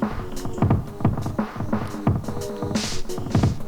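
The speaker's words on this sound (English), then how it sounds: "looks like there's a reverb" A looping drum beat playing back in music production software with reverb on it, repeated punchy kicks and hits in a steady rhythm with washy tails, no talking.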